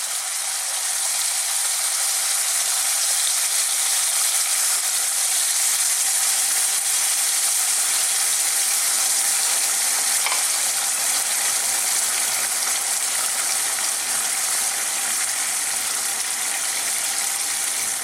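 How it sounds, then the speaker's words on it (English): Pork and potato for a Thai coconut curry cook in a pan as coconut milk goes in, giving a loud, steady, even sizzle and bubbling hiss that runs unbroken throughout. "now we'll lower the heat down just a touch. We're going to introduce this coconut milk."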